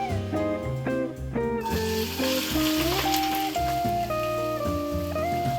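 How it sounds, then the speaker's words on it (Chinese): Onions go into a hot pan of oil for a home-style pumpkin soup, giving a broad, steady sizzle that rises sharply partway through and continues beneath prominent background music. "在热锅热油的状态底下，我们会加入我的洋葱"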